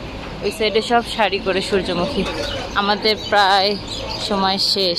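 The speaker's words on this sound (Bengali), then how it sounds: "পুরা খাঁচার ভিতরে কবুতর আর পাখি ভরা, সে কিচিরমিচির শব্দ পাচ্ছি।" Pigeons and other birds packed inside a cage in Tangail give bright, repeated chirps and twitters that carry close by under a person speaking.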